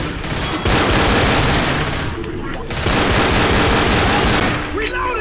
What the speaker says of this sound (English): I'm deadly with these pistols, though.